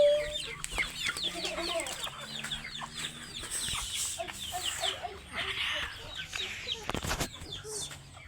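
Chickens cluck around a farmyard, with repeated close clucks and chatter from several birds, other bird calls and a few knocks mixed in, while people talk quietly nearby.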